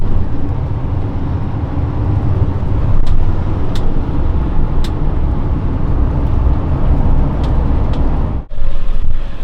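A bus drives along with a steady, loud rumble of engine and road noise and a few faint clicks, and the sound briefly cuts out before resuming.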